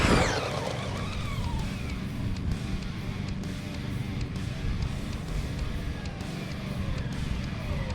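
Traxxas Drag Slash RC car runs at full throttle, a steady buzzing motor whine that starts loud and close, then holds through the rest as it drives away.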